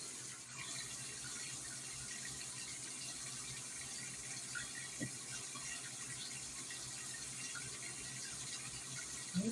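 A kitchen tap runs steadily while hands are washed under it, a soft, even rush of water with slight splashing that continues throughout at a modest distance.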